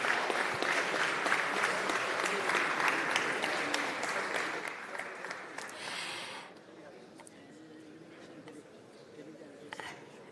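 Audience applause for panelists at the closing session of a development forum, loud sustained clapping from a large hall crowd that fades to scattered claps and quiet room murmur after about six seconds.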